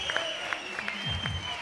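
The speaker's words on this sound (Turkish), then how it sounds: "Alkışları siz de duyuyorsunuz." Audience applause fills a TV studio during a pop singing competition show, steady clapping with speech mixed over it.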